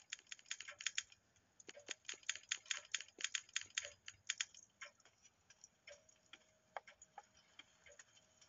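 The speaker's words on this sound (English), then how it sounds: "A typewriter." A typewriter in the Roblox game Doors clacks in rapid, uneven bursts of sharp key strikes, busy at first and then thinning into scattered clicks, with an occasional faint ring.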